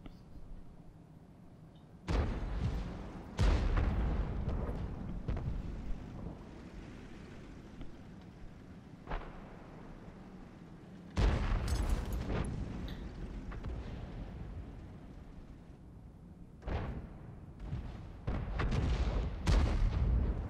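Artillery shells boom in World of Tanks gameplay, several heavy blasts spaced irregularly over low background rumble, each with a long rolling tail.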